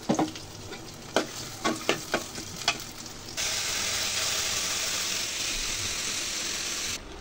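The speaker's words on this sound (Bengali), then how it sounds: "পাশে তেল দিয়ে দিলাম, পাতাকপি ভাজি করবো। এখন পেঁয়াজ কাঁচামরিচ দিয়ে দিলাম।" Sliced onion and green chili hit hot oil for a cabbage fry: a few sharp taps and clinks, then a sudden loud, steady sizzle that holds for several seconds before cutting off.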